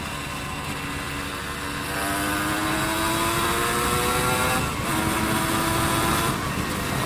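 Honda CRM 250 AR two-stroke motorcycle engine revving steadily up and down off-road, a raspy buzzing tone rising in pitch through the middle, close and loud throughout with no talk.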